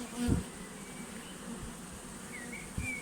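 A honeybee swarm gathering at a hive gives a faint, close, continuous buzzing hum, with a few soft knocks along the way.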